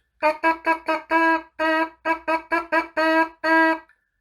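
Lips buzz a baritone horn practice rhythm in about a dozen pitched, buzzy notes of mixed short and held lengths, close and fairly loud with no talking.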